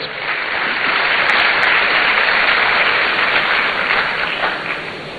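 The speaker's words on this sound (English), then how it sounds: "Let's welcome him with a round of applause." Sustained audience applause fills the room at a programme launch as a reverend is welcomed, a dense, steady wash of many hands clapping loudly before tapering slightly at the end.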